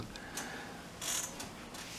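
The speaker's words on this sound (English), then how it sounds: "put it on half cock, and the cylinder comes off." Quiet metallic clicks from handling a Pietta 1851 Navy Colt revolver set on half cock with its cylinder being removed, two or three small close ticks over a faint hiss.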